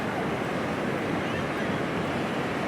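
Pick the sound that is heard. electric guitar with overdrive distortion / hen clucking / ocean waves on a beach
ocean waves on a beach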